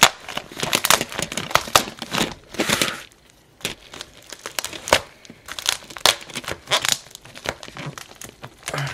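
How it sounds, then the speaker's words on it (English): Plastic packaging being sliced and torn open with a somewhat dull knife, a close series of crinkling, crackling rips and tears in bursts with short pauses, no talking. "get on my knife and let's cut this open"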